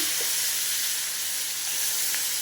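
Dal poured into a hot tempering hisses and sizzles continuously up close, a dense steady frying sound with no talking.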